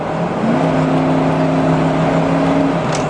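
A truck engine drones steadily from inside the cab, its pitch shifting upward as revs climb when the transmission kicks down, loud and continuous.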